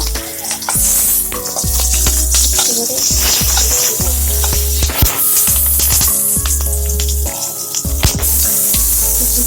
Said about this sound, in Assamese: জলকীয়া দিলে অকণমান ফুটি পৰে